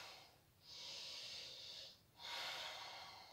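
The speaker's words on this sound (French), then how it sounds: "Profonde respiration, Ujjayi." Deep Ujjayi breathing during a vinyasa yoga flow comes as two long, audible hissing breaths, a slow inhale then an exhale, close and quiet with a brief pause between them.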